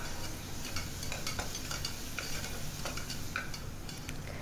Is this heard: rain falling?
no